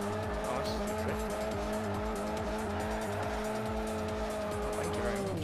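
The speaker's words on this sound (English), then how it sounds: "Oh, this is a drift." A Chevy Spark drifting in Forza 4, a steady engine drone layered with a sustained, loud tire squeal that holds throughout.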